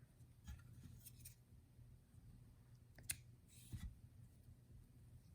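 Scissors snip off a short yarn tail on a crocheted daisy flower, making a couple of faint, close clicks and snips over quiet handling noise.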